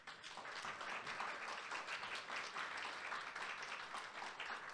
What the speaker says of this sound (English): I'd like to get one last round of applause for the faculty trainers for their work with you.